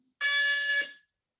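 A single loud electronic timing beep from a 30-15 intermittent fitness running test, a steady, bright tone lasting just under a second and then fading quickly into silence.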